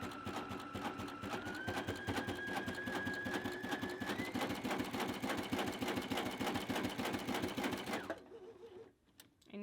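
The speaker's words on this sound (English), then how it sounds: "And you can hear how quickly it even sews, which is fantastic." A Baby Lock Sashiko machine stitches a quilt square with a fast, steady mechanical chatter and a rising whine, running continuously and close for about eight seconds before stopping.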